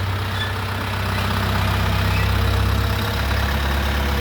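A Dongfeng 404 tractor engine idles steadily up close, a loud, continuous low rumble with an even mechanical throb throughout; its exhaust is turned down.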